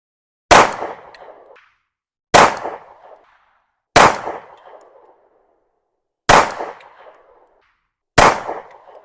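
Five sharp rifle shots fired at a steady pace about two seconds apart while sighting in an ADE Artemis red dot, each a loud close crack with a short ringing decay and silence between.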